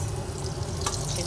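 Soybean kofta balls frying in hot oil, a steady close hiss and bubbling sizzle with a brief clink partway through, no voices.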